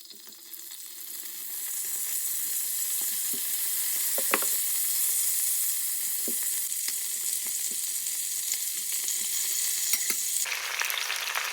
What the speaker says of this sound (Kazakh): Енді қазанымызға ет пен картопты салып шығамыз.